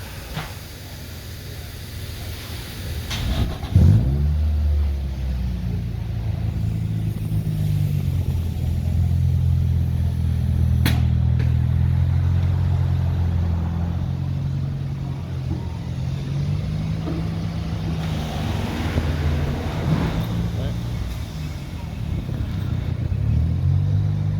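Car engine rumbling low and steady as the car is driven slowly onto an alignment machine, with a few mild revs rising and falling over about twenty seconds, close by.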